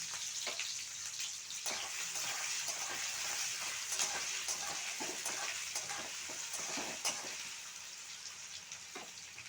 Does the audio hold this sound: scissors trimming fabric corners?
no